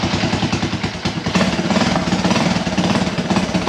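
A Honda ATC200S three-wheeler engine runs just after its first pull, a loud close rapid chugging idle with steady rhythmic clatter and no talk over it.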